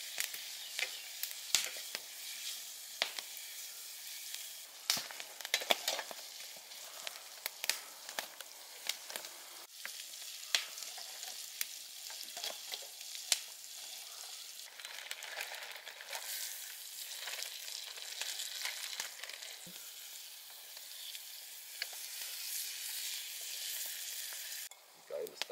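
Garlic sizzles and crackles while frying in a pan, a faint continuous hiss dotted with frequent sharp pops and stirring scrapes, with no voices.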